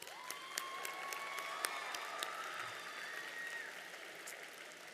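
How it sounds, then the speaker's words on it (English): Audience applause for school staff at a secondary school convocation ceremony: steady, moderately distant clapping from a large crowd, sustained for several seconds with scattered sharper claps and a faint whistle-like tone. "Let's have a big round of applause for them."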